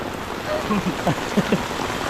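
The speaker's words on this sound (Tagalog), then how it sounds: "Ayan, lumakas na yung ulan." Heavy rain pours down steadily in a continuous hiss, with faint, brief voices barely rising above the downpour.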